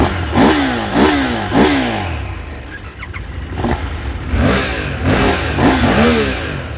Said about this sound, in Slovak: Peťo si sadne na svoju vyvolenú oranžovú mašinku a ideme sa ešte povoziť